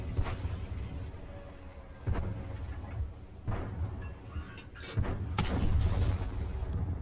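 A tank cannon fires in World of Tanks, a few heavy booming shots spread through the stretch over a constant low engine rumble, with one louder blast near the end.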